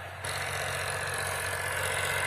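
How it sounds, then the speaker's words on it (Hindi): A farm tractor engine idles steadily and close by, a continuous low rumble that starts after a brief moment and holds with no talk over it. "देखो हम इनका ट्रैक्टर रुकवाएंगे।"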